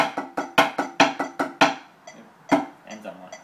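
Regular metronome clicks set against a 5/8 drum pattern, heard as a run of sharp, evenly spaced ticks followed by a few lighter, sparser clicks, close and alone without talk.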